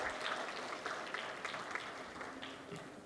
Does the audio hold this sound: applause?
yes